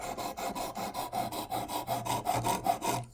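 Demko SharkCub knife drawn against a sharpening stone in quick, even back-and-forth strokes, a rhythmic close-up rasping that repeats about a dozen times at a steady pace, fairly quiet.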